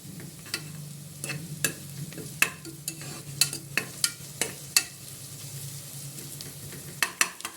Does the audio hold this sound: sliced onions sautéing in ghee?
yes